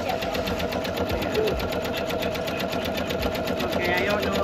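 A Janome MC230E single-needle embroidery machine stitches out a design on a baby bodysuit, with a steady, rapid mechanical chatter running continuously at close range.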